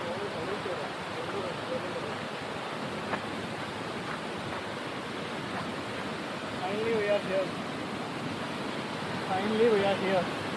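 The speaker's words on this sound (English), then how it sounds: "This is the waterfall." Waterfall in Munnar roaring as a steady broadband rush that fills the whole clip, with a voice faintly heard beneath the constant water noise.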